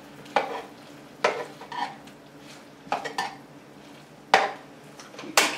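Pork chops in a pan being turned and coated in almond sauce with tongs, giving a series of close, sharp scraping and clattering strokes over a low steady sizzle, with no talking.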